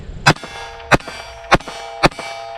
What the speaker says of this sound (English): Let's go for the MGM IPSC target real quick